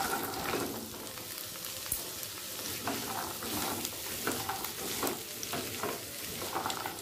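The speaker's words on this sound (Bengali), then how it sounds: "হাই ফ্লেমে আলুটা 1 মিনিট ভেজে নিয়েছি।" Small diced potatoes fry in oil with a bay leaf over a high flame, making a constant crackling sizzle broken by repeated stirring scrapes.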